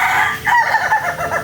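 Pet chickens call loudly and close by, a rooster-like crowing cry mixed with rapid clucking notes in a short, continuous burst with no talk.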